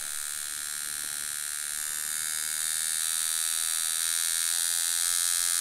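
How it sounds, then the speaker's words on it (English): A Pope Irons T3X tattoo machine running a 3 round liner, starting at low voltage, gives a steady close electric buzz with a high whine that holds throughout and shifts slightly in pitch, with no talking. "So let's quickly run the 3 round liner first."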